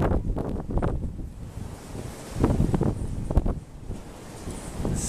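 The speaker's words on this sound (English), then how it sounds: "There's so much air blowing around in here." Wind gusts through a long-abandoned Texaco gas station and repair shop, a steady roaring rush with louder surges swelling and fading over a few seconds, close to the microphone and buffeting it.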